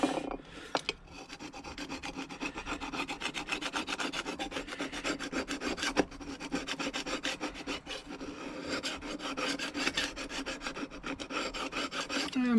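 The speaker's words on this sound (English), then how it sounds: "Just need to get rid of a lot of this instant gasket stuff that's left on here." Old instant gasket sealant is scraped off a 1977 Triumph Bonneville T140 engine casing with a steady, rasping stroke-after-stroke scrape, close and continuous with a few sharper clicks.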